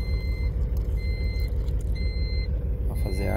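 A truck engine idling and revving at close range before dawn at an agricultural aviation base to build air pressure, a steady deep rumble overlaid by a regular repeating beep pattern and a hiss of air near the end.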